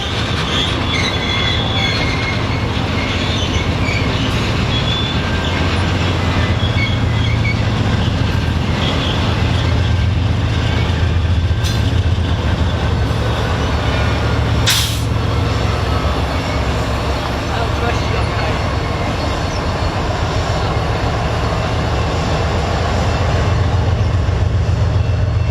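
BNSF Temple-Tulsa freight train led by a War Bonnet and an SD-70 Ace rolling past, a loud, sustained rumble of wheels and cars with occasional squeals, steady throughout.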